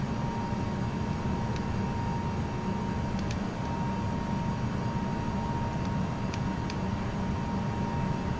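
Airliner engines spooling at climb thrust in the X-Plane 11 flight simulator give a steady, faint cockpit drone with a constant hum and a few soft clicks, no voices.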